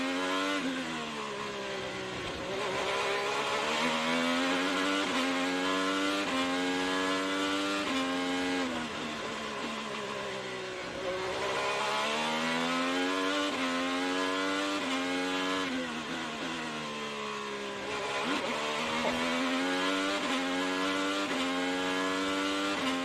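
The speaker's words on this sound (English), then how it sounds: "Let's just listen to the sounds of an Indycar in anger and a Southern California native at the wheel." An IndyCar race car at full speed during qualifying at the Long Beach street circuit, its loud engine screaming continuously with repeated rising and falling pitch sweeps through gear changes, with no voices.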